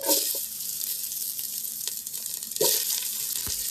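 Onions sizzle and crackle in hot oil in a pan for a catla fish curry, a steady broad fry broken by a few sharp bursts as pieces are stirred or more onion is added.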